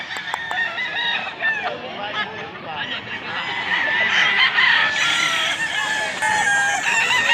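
A rooster crows repeatedly at a roadside spot in Mantalungon, Barili, a gray bird about 13 months old, its calls ringing out close and loud over continuous clucking and farmyard chatter.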